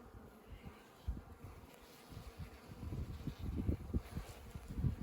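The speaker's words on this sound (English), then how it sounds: "More bees here." A dense, steady buzzing of many honey bees close by at an opened top bar hive in spring, swelling slightly louder over the few seconds with no voices.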